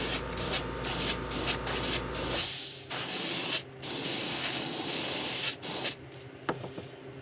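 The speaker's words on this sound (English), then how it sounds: "Now I'm just blowing some air right now to kind of get to dry." An airbrush sprays a steady hiss of air over a freshly painted fishing lure to dry it, a loud broadband rush that cuts off abruptly partway through and returns in shorter bursts.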